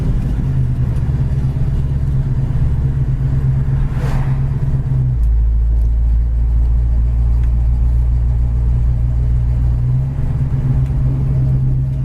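A 1967 Ford Mustang engine rumbles steadily and close by as the car is shifted down through the gears, its low drone changing pitch partway through as the gear drops, with no talk over it.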